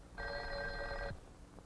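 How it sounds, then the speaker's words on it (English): A telephone bell rings once in a single steady burst of about a second, driven by ringing current from a step-by-step switch connector in demonstration equipment, clear and alone in a quiet room. "The connector now sends ringing current out on the called line until the receiver is raised."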